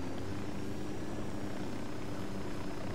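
A helicopter in the video game Ghost Recon Wildlands keeps up a constant, loud rotor and engine drone, steady and close throughout, with no voices over it.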